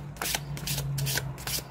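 Tarot cards being shuffled up close, a few quick riffling bursts of papery flutter in rapid succession.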